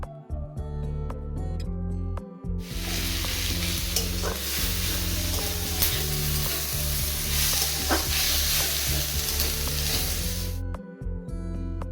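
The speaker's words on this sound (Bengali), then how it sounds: "সব কিছু একসাথে ভেজে নেব।" Ingredients frying together in a pan, a loud steady sizzle with scraping stirs running for several seconds, then the hiss cutting off, with occasional clinks and background music.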